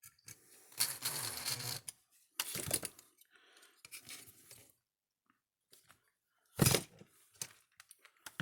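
A repaired Gallagher S17 electric fence energizer makes quiet mechanical clicking and ticking in short irregular clusters separated by near silence, with one sharper, louder click burst toward the end.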